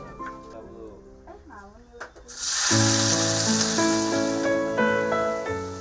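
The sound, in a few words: sautéing genjer greens with garlic, shallots, chili, tomato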